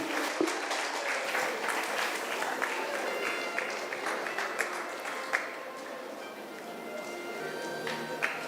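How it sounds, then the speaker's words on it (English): Graduates at an engineering institute graduation day applaud their batchmates, a steady wash of crowd clapping in a hall with scattered sharper claps, moderately distant, while a voice speaks faintly underneath. "Graduates, kindly applaud for your batchmates."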